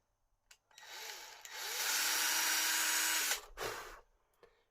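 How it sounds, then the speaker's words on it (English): A very small 1.5 mm drill bit bores into a quad Lucid 405 part near its circuit board, a faint tap and brief whir before a steady high-pitched whine for about two seconds, then a short follow-up burst. "So I'm just going to show you now how to drill these out."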